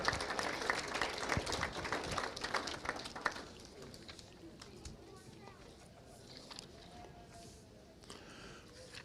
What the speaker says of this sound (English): let's give a round of applause to our Supreme Row sponsors and to the Watertown Ag Committee